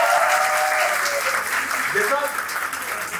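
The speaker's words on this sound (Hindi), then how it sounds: "तालियां बजा दो इनके लिए।" Crowd applause at an offline meetup for exam aspirants, steady clapping that runs under someone speaking over it.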